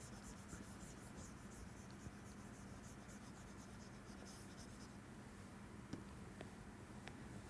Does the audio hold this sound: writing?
yes